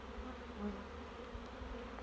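A steady, low drone of honeybees buzzing at a hive fills the clip, continuous and fairly faint, with no voices.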